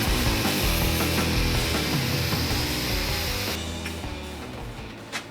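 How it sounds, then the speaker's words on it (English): An angle grinder cuts leftover exhaust parts from a Yamaha XV750 custom build with a loud, continuous harsh grinding roar that eases off and changes tone partway through, up close with no talking. "I'll be using my grinder to take that off real quick."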